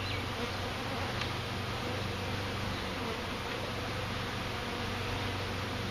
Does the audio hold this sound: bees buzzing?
yes